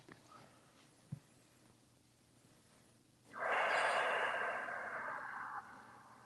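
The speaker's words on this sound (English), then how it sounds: "Continue breathing nice and slow." During a restorative yoga session, a single long, slow exhale comes close and soft after several seconds of near-quiet, fading gradually at the end.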